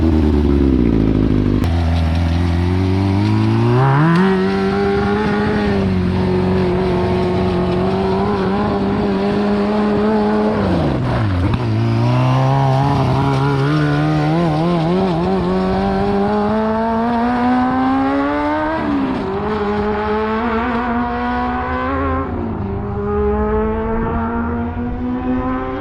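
A side-by-side running a swapped 100 hp Yamaha R6 motorcycle engine on a race track, revving hard and continuously with rising and falling pitch through gear changes, loud and close throughout.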